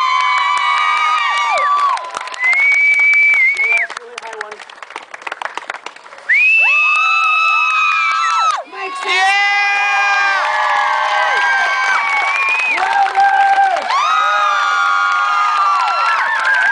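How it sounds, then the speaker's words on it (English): A street-show crowd in Concord, North Carolina cheers, whoops and applauds a juggler, with loud bursts of shouting and clapping rising and falling, children's shrill voices mixed in, and a performer speaking between surges. "I love spontaneous applause."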